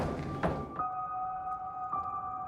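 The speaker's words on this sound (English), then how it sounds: "I love the noise that the door makes. It's going to bang again." A door bangs with a single dull thunk inside an underground tunnel, followed by a lingering metallic ringing hum that swells once more before fading.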